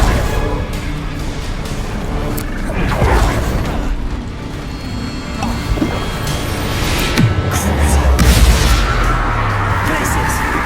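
The Confringo fire-blast spell in the video game Hogwarts Legacy erupts in loud, rumbling booms layered over a dense game soundscape of magic and combat, close and continuous throughout.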